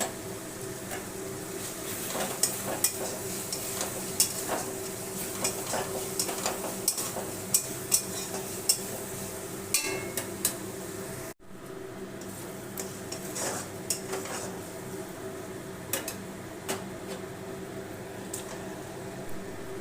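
Fried spices being stirred in a pan while making prawn curry, with a steady soft sizzle and scraping, plus frequent sharp clicks and taps of the spoon against the pan throughout.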